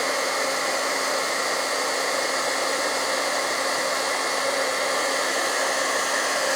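A heat gun used for heat embossing on a stamped craft project blows in a steady, loud, close whooshing roar with a faint hum and no talking.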